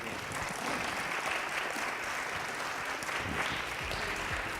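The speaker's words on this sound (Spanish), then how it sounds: "un aplauso por favor para Camila" Sustained audience applause fills a lecture hall after a talk on neuroscience, steady and dense clapping with no break for its full length.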